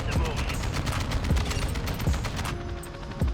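Rapid gunfire bursts in the video game Modern Warfare 2, dense repeated shots and fusillades with voices talking over the shooting.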